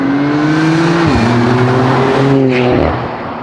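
Porsche Cayenne GTS with a 440 hp V6 engine sounds loud and close, holding a steady drone before the revs dip, rise again, then drop toward the end.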